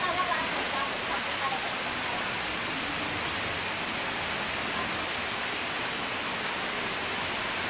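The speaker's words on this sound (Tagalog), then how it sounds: "Walang Langit Falls. Astig." Steady, broadband rushing of water pouring at Walang Langit Falls, a dense continuous roar close by that holds evenly throughout, with no other sounds standing out above it.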